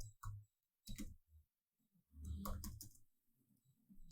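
Typing on a computer keyboard: a few quiet separate key clicks, then a short burst of faster tapping, all faint and close with no talking.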